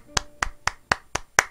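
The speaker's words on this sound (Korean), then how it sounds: "제가 일단은 뭐 일단 박수부터 먼저 보내죠." Hand clapping, six sharp separate claps in an even, moderately quick rhythm, close and crisp with short gaps of quiet between them.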